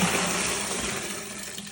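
Alcohol infusion with lemon zest poured for limoncello, a steady close trickle of liquid running without pause and easing slightly toward the end.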